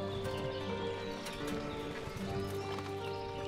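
Horses in the video game Ostriv clip-clop with steady hoof beats over a continuous low hum of village ambience, fairly close and moderately loud.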